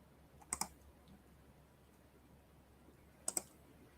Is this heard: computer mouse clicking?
yes